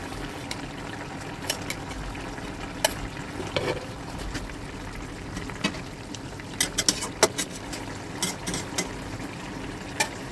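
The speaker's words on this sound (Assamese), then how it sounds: "আৰু এয়া চব্জি মোৰ উতলি আছে," Long beans and fried egg curry simmering in a pan, a low steady bubbling hiss with occasional faint clicks and taps of a spoon, quiet and continuous.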